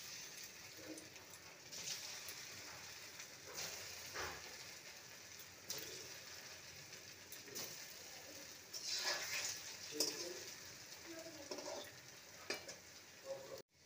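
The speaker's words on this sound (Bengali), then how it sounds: "মিডিয়াম ফ্লেমে এগুলোকে ভেজে নেব।" Flattened-rice (poha) rosh puli dough discs deep-fry in oil over a medium flame, a quiet, steady sizzle with occasional louder crackling bursts and light stirring.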